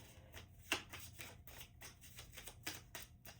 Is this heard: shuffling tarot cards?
yes